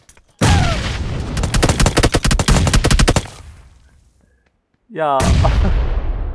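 Loud blasts and gunfire in PUBG Lite: a heavy explosion opens a long roar with a rapid burst of shots, falls quiet, then a second loud blast roars on, with a brief spoken exclamation.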